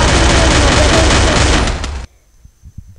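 A sniper rifle fires in a shooting video game, heard as a loud, dense burst of gunfire lasting about two seconds that cuts off abruptly, followed by faint scattered clicks and a thin high tone.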